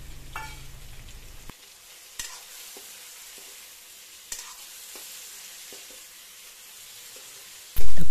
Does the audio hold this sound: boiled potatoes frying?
yes